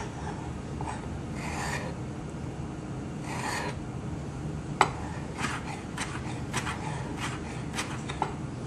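A sharp knife slices through stacked tortillas on a cutting board, soft rasping cuts followed by a run of light taps and clicks, close and fairly quiet.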